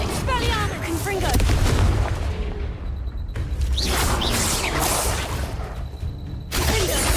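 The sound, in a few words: Confringo blasting spell from video game Hogwarts Legacy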